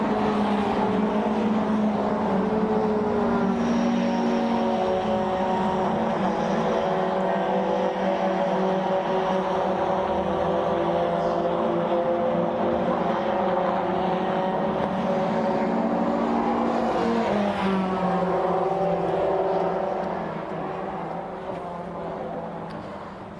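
Classic touring cars race at Brands Hatch, a dense continuous engine drone with layered harmonics as several cars run together, fading slightly near the end.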